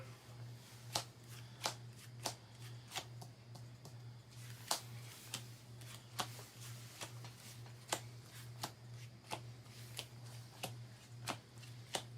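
Yu-Gi-Oh trading cards are shuffled by hand at a live tabletop duel. Quiet, crisp snaps of cards repeat at an uneven pace under a low steady hum, with no talking.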